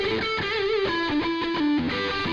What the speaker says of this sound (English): I'm going for like an echo chamber kind of sound here.